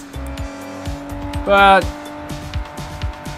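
Car racing in Sleeping Dogs, a heavy car leading the pack, with engine drone and a loud tire squeal surging in the middle of the clip, while someone talks over it.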